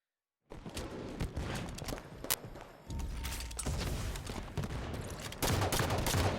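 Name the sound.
grenades and gunfire in Halo video game, Turbine map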